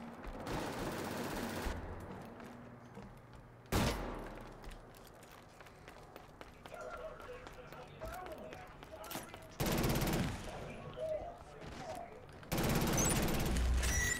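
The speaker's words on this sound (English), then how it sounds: "This gun's a fast-firing, like, submachine gun, I think is what the description says." Fast-firing submachine gun bursts in the Killzone Shadow Fall multiplayer shooter, loud rapid volleys arriving in several separate blocks with quieter battle ambience and someone talking in between.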